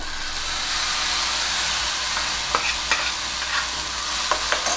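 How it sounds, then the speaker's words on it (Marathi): Fresh fenugreek leaves sauté in hot oil in a pan, making a steady, moderately loud sizzle with a few sharp clicks from stirring toward the end. "आपली मेथी आता छान परतली गेली आहे"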